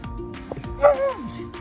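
A German Shepherd gives a short yip and a bark, close and moderately loud, among brief background noise.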